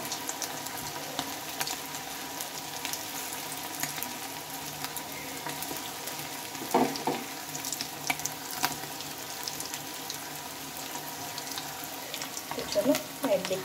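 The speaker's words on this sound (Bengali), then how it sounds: "চলো একদিকটা ভাজা হোক" Snacks made from wheat flour dough fry in hot oil over a lowered gas flame, giving a steady soft sizzle throughout with a few brief louder crackles and clinks near the middle and end.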